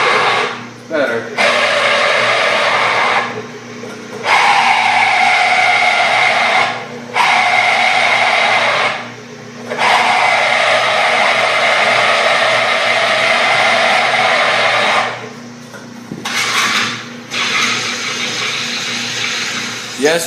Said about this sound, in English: it's drilling a lot better right now